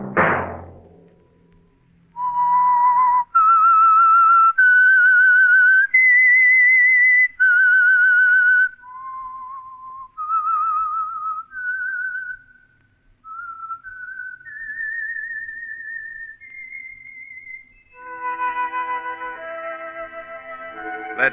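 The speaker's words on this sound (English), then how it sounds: "Let that whistle be your signal for the Signal Oil program, The Whistler" A lone whistler carries the eerie theme signal of The Whistler radio program, a slow, clear melody of sustained notes that rises and falls, closing with a brief orchestral chord.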